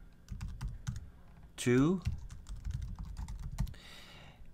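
Computer keyboard keys clatter in quick irregular bursts while an email address is typed, with a short spoken phrase partway through and the typing continuing near and clear after it.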